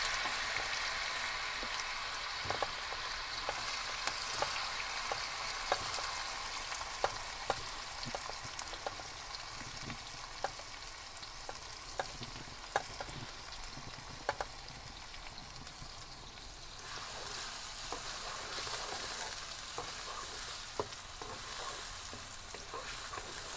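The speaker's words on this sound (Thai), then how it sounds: "น้ำมันร้อนนะครับ ใส่เต้าหู้ลงไปทอดก่อนนะครับ" Tofu fries in hot oil for pad thai, a steady close crackling sizzle full of small pops that continues for the whole stretch with no voices.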